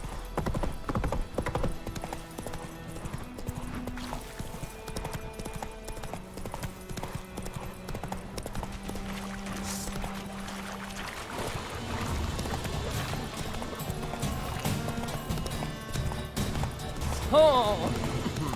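Hoofbeats of Roach, Geralt's horse in The Witcher 3: Wild Hunt, gallop steadily under game music and ambient sound, with a voice speaking partway through.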